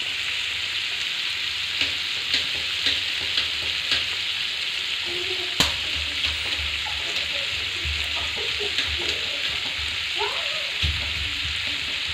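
Chopped onion, tomato, garlic and green chili frying in a pan for a Kerala-style prawn fry, with a continuous close sizzle broken by occasional clinks and scraping as the mix is stirred; no speech.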